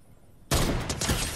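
A sniper rifle shot in Fortnite Chapter 3 Season 3 cracks loud and close after a quiet moment, its blast ringing out into a dense, rumbling tail.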